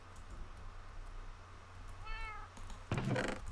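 A Minecraft cat gives a short, clear meow in a quiet game scene, followed moments later by a brief soft knock or thump.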